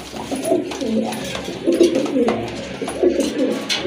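Raj Golla pigeons, a coffee-coloured pair, coo close by in a steady run of low, throaty rolling calls, fairly loud, with some background clatter.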